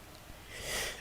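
A single soft, breathy sneeze with a sharp nasal burst, fairly quiet and close, with no talking around it.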